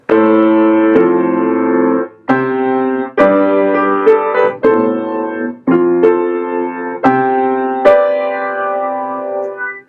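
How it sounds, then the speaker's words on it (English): Piano chords played in sequence, each sustained about a second before the next, loud and close with a slight reverberant wash, no voices. "So I came to play on this very lovely piano here."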